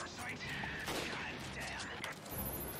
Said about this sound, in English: I guess we'll shoot them as well